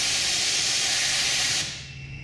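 A 3M Accuspray plastic paint spray gun sprays a loud, steady hiss of air and paint at close range, then cuts off abruptly, leaving a faint, quieter hiss.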